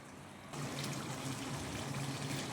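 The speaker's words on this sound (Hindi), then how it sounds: "मैंने 1 छोटा कप पानी का डाला" After a short quiet lead-in, a small cup of water is poured into egg curry gravy, giving a sudden steady splashing trickle that continues evenly to the end, close and moderately soft.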